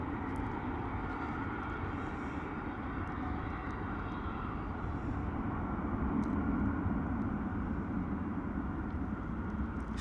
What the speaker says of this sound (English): Landing gear up on that 321neo.